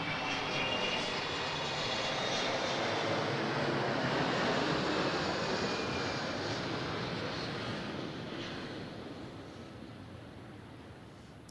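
An airplane lands at Adelaide Airport, its engine roar swelling as it comes in, then slowly easing away in a broad, steady wash of sound with no voices.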